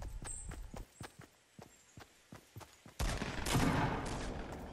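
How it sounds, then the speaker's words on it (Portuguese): Video game gunfire: a string of sharp, evenly spaced single shots, then a dense, louder burst of rapid fire toward the end, with no talk. "Está bué de tiro aqui."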